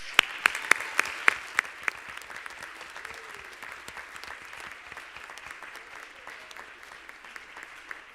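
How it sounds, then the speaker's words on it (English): A round of applause for an award recipient at a school board meeting, with sharp individual claps up front settling into steady, moderately loud clapping from a roomful of people, with no speech over it. "Let's begin with a big round of applause for Callie Szymanski."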